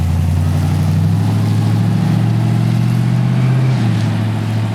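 A car engine runs loud and close with a steady low drone, slightly rising then easing as it pulls away down the street on a shakedown run, no talk over it.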